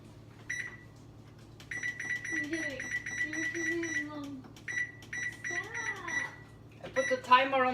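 A kitchen timer being set, giving a run of short electronic beeps that repeat in bursts, while a person talks softly over them in a quiet kitchen.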